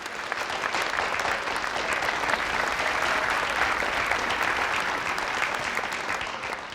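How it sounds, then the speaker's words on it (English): Large keynote crowd at a web design conference applauds the sponsors, a dense, sustained roar of clapping that swells slightly in the middle and stays steady for several seconds. "Let's give all of our amazing sponsors a huge,"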